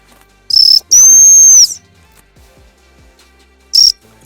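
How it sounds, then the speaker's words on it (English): A hump whistle for retriever dog training: two short high blasts close together, the second longer with a rising-and-falling hump, then one more short blast after a pause, loud and near, with no talk. "you've got to do the hump whistle during that"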